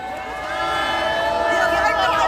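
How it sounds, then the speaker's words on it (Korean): A crowd at an outdoor candlelight rally in a city hall plaza cheers and shouts together, a loud, sustained swell of many voices close by. "힘찬 함성으로 마치겠습니다"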